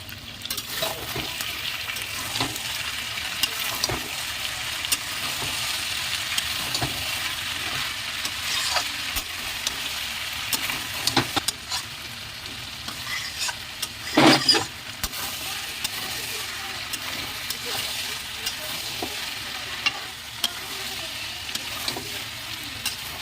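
Chicken pieces stirred in a pan after being covered to cook, a continuous sizzle with scattered scrapes and clinks of the spoon throughout, one louder clatter midway, no one speaking.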